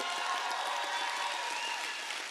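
A lecture audience at the University of Minnesota applauding, a dense, steady wash of clapping that fills the clip and fades slightly at the end.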